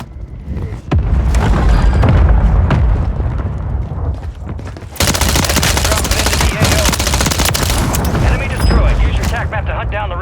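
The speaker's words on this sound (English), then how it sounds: "Hostile mortar strike in the area." Loud explosions and bursts of gunfire fill a match in the video game Warzone 3, with dense, continuous booms and rapid cracks throughout, intensifying sharply halfway through, while a voice speaks over the action.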